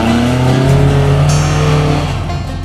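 A Jeep engine revs hard and close at an off-road park in Florida, holding a steady loud drone that falls slightly as the throttle eases toward the end.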